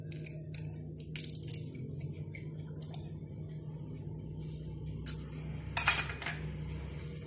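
Utensils clink and scrape against a bowl in quick irregular bursts while milk and eggs are being mixed, close and fairly quiet.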